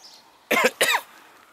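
Two sharp coughs in quick succession, close and loud, against a quiet background.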